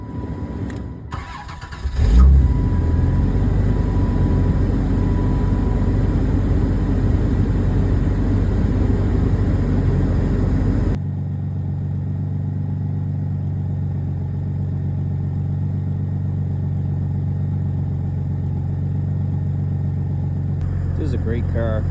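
A Dodge Intrepid with a 3.3 liter engine, 282,000 miles on its original engine and very low fuel, cranks briefly and fires on a cold start, then settles into a loud, steady idle that drops to a lower, smoother hum.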